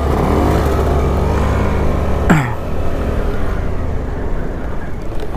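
Rajdoot 175 two-stroke motorcycle on a long ride, with a steady, loud engine drone throughout and a brief sharp rising tone near the middle, heard alone without talk.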